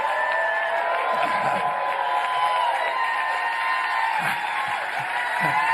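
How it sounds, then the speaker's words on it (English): A crowd at a small business summit applauds steadily, with a dense wash of clapping and murmuring that holds evenly from start to finish and carries a few faint whoops. "people stand and applaud at the start"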